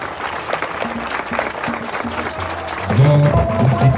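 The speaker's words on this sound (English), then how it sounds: "Now clap for yourself." A crowd claps for itself at an outdoor sod-turning ceremony for a university, scattered clapping with some voices and low background sounds, louder and denser near the end.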